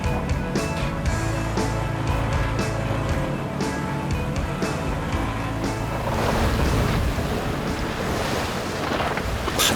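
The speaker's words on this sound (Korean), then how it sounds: "파도가 점점 거세지자" Rough sea slaps and surges around a fishing boat out after giant octopus in three-metre waves, loud and continuous with heavy wind buffeting the microphone and repeated splashing bursts, no talk.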